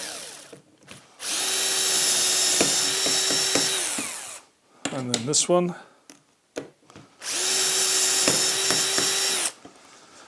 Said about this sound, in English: And then I'm just going to drill this one.